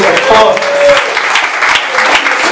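Church congregation applauding, brisk dense clapping from many hands filling the room, fairly loud and continuous over the short span.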